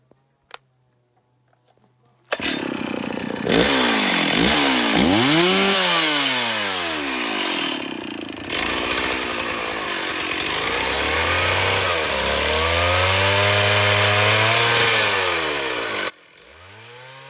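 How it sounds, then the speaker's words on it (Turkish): A chainsaw starts up and revs loudly, its engine pitch rising and falling as it bites into wood, running nearly continuously before cutting off abruptly. "Motorlu testere ile odun keseceğiz."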